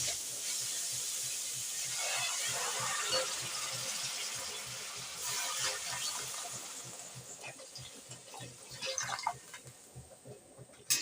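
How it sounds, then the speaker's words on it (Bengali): Chicken stock left from boiling chicken is poured into a soup pot of vegetables, a steady hissing, splashing pour running for several seconds before it tapers off, ending with a few clinks near the end. "চিকেনের সিদ্ধ জলটা দিয়ে দেবো।"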